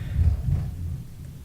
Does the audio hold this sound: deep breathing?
no